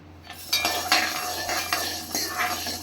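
Black urad dal roasting in a pan for drumstick-leaf spice powder, with a spoon scraping and stirring in repeated clinking strokes over a faint dry sizzle, close and moderately loud with no talking.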